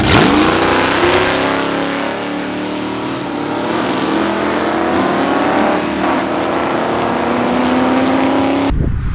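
Hot rod car powered by a stock, low-compression 318 V8 accelerating hard on a night run, a loud continuous roar whose pitch climbs steadily as it pulls, heard close with no talk.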